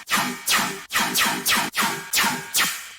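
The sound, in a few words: dubstep synth bass sound without processing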